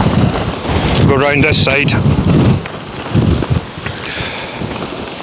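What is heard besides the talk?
strong wind buffeting a tent in Storm Bert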